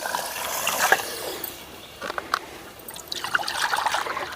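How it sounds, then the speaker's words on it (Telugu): Water trickling and pouring into a clay cooking pot over a wood-fired stove in uneven bursts, with small clinks and a pause in the middle. "రెండు చెట్లు నీళ్ళు అయితే పోసుకుందాం"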